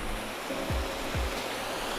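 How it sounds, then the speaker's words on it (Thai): A waterfall in the Wichita Mountains gives a steady, close, broadband rush of water, with two brief low thumps partway through. "ตอนนี้ก็มาอยู่ข้างๆน้ำตกแล้ว"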